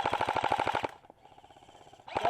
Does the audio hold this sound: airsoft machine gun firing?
yes